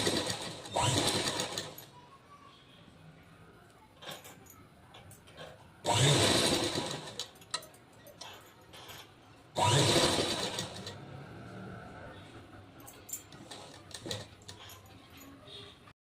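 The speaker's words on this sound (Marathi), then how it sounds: "अशा पद्धतीने पूर्ण गळ्यापर्यंत शिलाई करून घ्यायची" A sewing machine runs in three loud bursts as it stitches fabric along a hook strip up to the neckline of a garment, with quieter handling noises between the runs.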